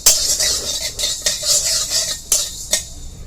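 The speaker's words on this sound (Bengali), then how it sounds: "ধনেটা একটু নাড়াচাড়া করে তারপর রাঁধুনি সসটা দিলাম" A metal spoon scrapes and clinks against a pan while whole coriander seeds are stirred with radhuni sauce, several distinct taps over a soft sizzle, close and fairly loud.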